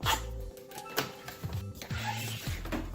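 Shark ION S87 robot vacuum's hand vacuum emptying its debris at the push of a button, a low mechanical whir and clunking pulses from the unit, close and steady under a faint room tone.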